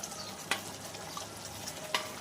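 Fried jackfruit and prawn balls tossed gently in a pan of sauce with ghee and garam masala, a soft low sizzle with two distinct spoon-against-pan clinks spaced apart.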